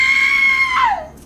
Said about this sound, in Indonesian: kedengeran suara teriakan yang melengking